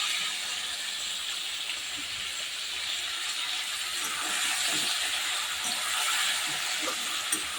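Crabs frying in a pan with already fried potatoes, a steady loud hiss and sizzle that swells slightly midway and carries on without a pause.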